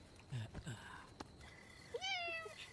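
A cat meows once clearly, a rising and falling cry near the end, after faint rustling and a few soft sounds in a quiet room.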